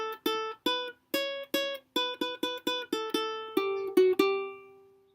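Plucked ukulele notes from a riff, about a dozen clean single notes in an uneven melodic rhythm, close and clear, the last few ringing longer, with no talking.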